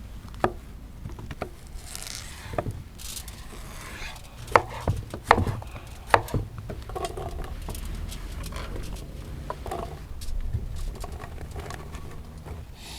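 A knife chops food on a board while garlic, bulgur and other ingredients are prepared, producing irregular soft thuds and patters with a few sharper knocks amid quiet kitchen background.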